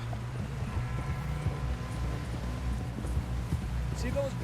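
A horse gallops in the video game Red Dead Redemption 2, with low rhythmic hoofbeats running steadily under continuous voices talking.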